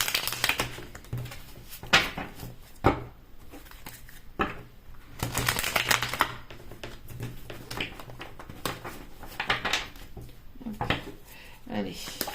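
Tarot cards are shuffled by hand in soft, quick riffling and tapping bursts with occasional sharper slaps, close up at low volume, while a voice speaks intermittently.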